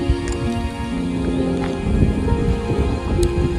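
Rain begins falling in a village in southern Laos, a steady close patter on surfaces with scattered drips and low rumbling underneath, continuous and fairly loud.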